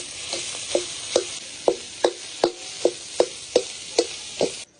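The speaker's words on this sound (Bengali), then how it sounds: "তবে এভাবে কড়াইতে ম্যাশ করলে হয়ে যাবে" Rhythmic scraping thumps of a utensil mashing potato in a frying wok, about a dozen regular strokes over a continuous sizzle, no talking.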